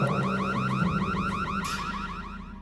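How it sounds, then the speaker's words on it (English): A loud electronic alarm wailing close by in a rapid, repeating warbling sweep, sustained throughout and cutting off sharply near the end, with no voices. "Yeah, we had another fire alarm, aka smoke buddy."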